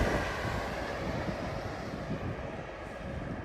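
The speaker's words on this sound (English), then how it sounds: "Another train." A train passes near an allotment garden, its broad steady rumble moderately loud at first and easing slightly as it continues, with no voices.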